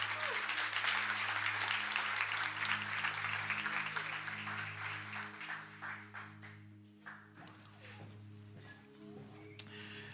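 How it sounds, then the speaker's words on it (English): An audience claps for mentors and leaders at an event, a full round of dense applause that gradually thins and fades after about seven seconds, leaving scattered claps over a low steady hum. "Would you give them a round of applause for me?"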